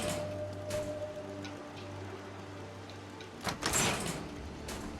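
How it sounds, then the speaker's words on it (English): Security doors slide open in the Fallout 4 video game at a settlement, with a low mechanical hum giving way to a short burst of hissing and clanking toward the end, fairly faint. "Go through the security doors."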